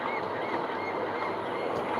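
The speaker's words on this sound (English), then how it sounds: "Nothing says summer in Toronto like the sound of seagulls by the lake." Seagulls call by the lake in Toronto along the waterfront, faint repeated cries over a steady wash of outdoor ambience, no speech.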